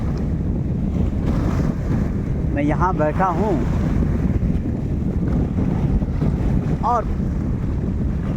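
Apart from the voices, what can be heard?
sea waves and gurgling water at the shore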